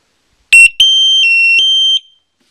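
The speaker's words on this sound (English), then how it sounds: "I'm going to do the buzzer test to show you how loud this thing can get" A BoomR timer buzzer gives a short sharp chirp, then one loud, steady high-pitched electronic tone that holds for over a second before cutting off, heard alone and close.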